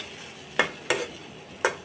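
A spatula scrapes a wok three times, sharp and close, while fried chepa dried-fish bharta is stirred and lifted out. A soft sizzle runs underneath.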